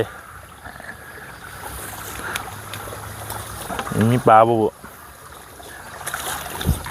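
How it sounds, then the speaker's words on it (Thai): Water gushes steadily from a pipe outlet into a stream where shrimp traps are set. The flow is a constant rushing wash, and someone speaks briefly partway through. "ปากท่อน้ำไหล"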